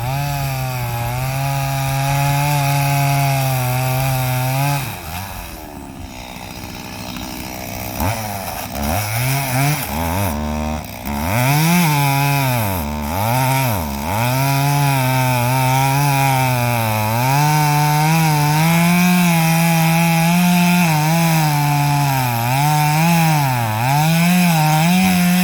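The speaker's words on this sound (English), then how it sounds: "Chainsaw's a little bit on the short side for that size of tree" A short-bar chainsaw cuts a wedge into a large tree, running loud and close with a steady whine that dips and rises as it bogs into the wood, briefly easing off midway.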